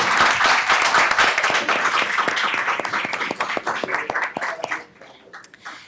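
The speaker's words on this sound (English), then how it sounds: "Let's give him a round of applause." Audience applause at a school board meeting, loud and dense at first, then thinning into scattered individual claps as it fades toward the end.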